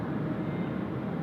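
Delta A350 airliner rolling in at Tokyo Haneda airport, a steady broadband jet rumble heard at a distance, continuous and even throughout with no voices.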